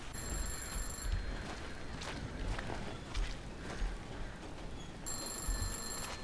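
A telephone rings in bursts at the start and again near the end of a horror video game scene, a bright electronic trill over a dense, rumbling background with scattered thuds.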